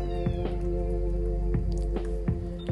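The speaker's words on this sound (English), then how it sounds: "my cat is calling me" A pet cat meows repeatedly in short calls over a steady low hum and droning tones indoors.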